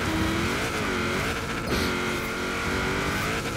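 A Ford Transit van driven in Forza Horizon 4, its engine droning steadily and close with shifting pitch and a brief tire squeal, continuous and loud throughout.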